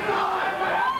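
A packed indoor independent wrestling crowd pressed right up against the ring roars with broad, sustained cheering and yelling, loud and continuous for a moment without a break.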